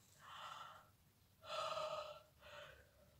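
Three slow, airy breaths through an open mouth, close by and soft, the second one longest and strongest, with short pauses between them.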